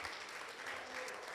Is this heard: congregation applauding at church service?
yes